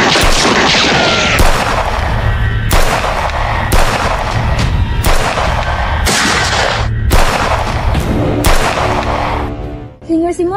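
A loud volley of gunfire repeats at regular intervals, one booming burst roughly every second, each with a long rumbling tail, nearby and dominating everything else.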